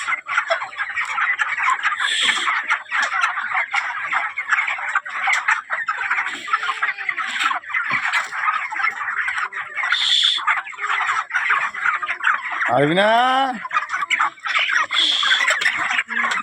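A flock of poultry clucks and gobbles continuously, with a black hen among them; a brief spoken phrase and one rising squawk stand out over the busy, close-up farmyard chatter.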